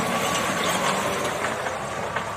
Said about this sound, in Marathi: सकाळी सकाळी दोन भावांचा ट्रॅक्टर आलेला आहे